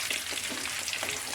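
Curry leaves sizzle in hot oil as a chicken parts curry is cooked, a dense, steady crackle and spatter lasting the whole moment, close and fairly loud with no voices.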